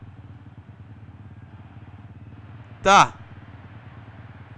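Motorcycle engine idling in a PS4 video game, a low steady rumble throughout, briefly interrupted by a short spoken word near the end.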